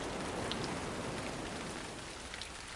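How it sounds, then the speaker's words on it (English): Heavy rain pours down steadily and loudly at night near the ocean, a dense, unbroken hiss of drops close around with no breaks and no voices. "The rain, so loud and relentless, came down hard all around them"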